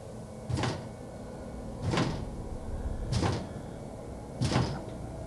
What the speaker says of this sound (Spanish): como si alguien estuviera empujando suavemente la puerta de madera y la reja asegurada por el candado